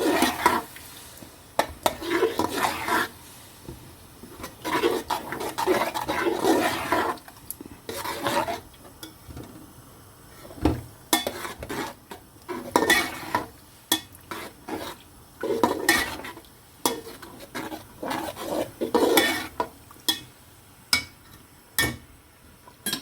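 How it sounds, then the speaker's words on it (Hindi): A spoon stirs yogurt into chana pulao in a pot over a high flame, making repeated scraping and clattering strokes against the metal, close and fairly loud, with brief pauses between bursts of mixing. "अब ऐड करेंगे दही और हाई फ्लेम पे इसको भी अच्छी तरह मिक्स कर लेंगे"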